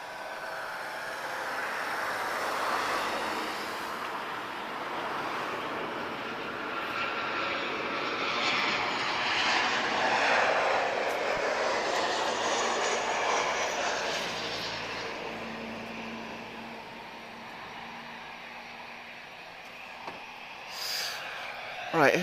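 Royal Air Maroc airliner moving at Lisbon Airport, its engine roar swelling gradually to a peak midway and then easing off, fairly distant, with a brief bump of louder noise at the very end.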